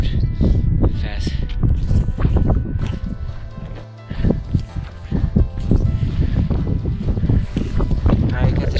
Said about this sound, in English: It's getting windy, so I'm gonna put on my shell now